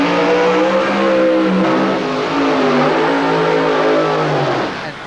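A supercharged drag racing car at the 1990 Winternationals at Willowbank, Australia, roars loudly as it accelerates hard, its engine pitch climbing steadily before fading slightly at the end.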